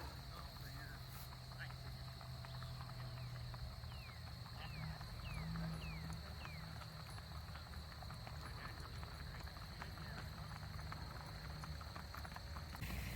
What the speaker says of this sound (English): It looks like we got a modern day cattle drive.